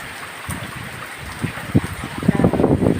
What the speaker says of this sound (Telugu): చాలా వర్షం వస్తుంది. ఉరుములు మెరుపులతో కూడిన వర్షం.